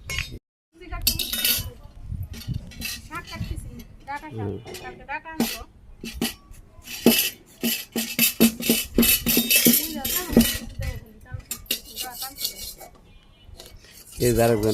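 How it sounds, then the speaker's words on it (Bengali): Vegetables are chopped on a rooftop beside a clay stove in a Bangladeshi village. Irregular knife clinks and rasping cuts repeat throughout, with a person talking over them. "আমি সবজি কেটে নিই"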